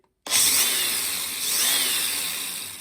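A 4.5-inch angle grinder fitted as a belt sander starts abruptly and runs at a high, steady whine, its pitch dipping slightly under load before evening out.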